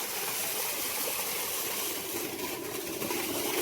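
Water gushes continuously from a borewell pump outdoors, a loud, steady broadband rush with no pauses.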